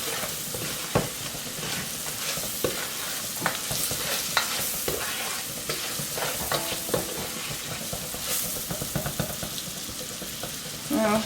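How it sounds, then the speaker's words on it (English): Crab being stirred in a wide pot of seasoning and juices: repeated scraping, clinking strokes of a spoon over a continuous frying sizzle, close and fairly busy, without speech. "with the crab you're going to have to be able to stir it and making sure all the juices get into the crab"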